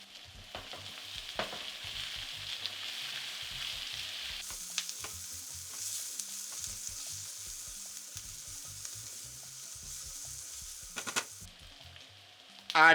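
Onions, garlic, ginger and green chili sizzle steadily in a pan, a continuous close frying hiss with scattered soft stirring knocks throughout and a brief louder clatter at the very end.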